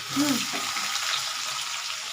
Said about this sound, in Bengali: এবার আমি পেঁয়াজটা দিচ্ছি।